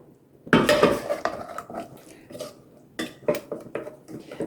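A spoon scrapes and clinks against the bottom of a pan of sausage gravy, in a few sharp bursts separated by quieter stirring, close and fairly soft.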